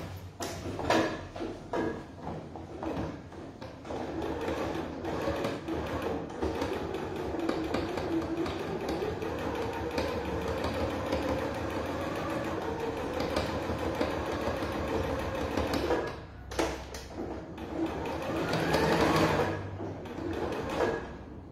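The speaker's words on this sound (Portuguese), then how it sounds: "Vamos costurar." Home sewing machine stitching fabric scraps into a small stuffed doll's head, a steady mechanical whir with rapid needle clatter running almost continuously, pausing briefly near the end before resuming.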